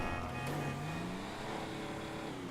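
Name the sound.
car engine revving in the video game Grand Theft Auto V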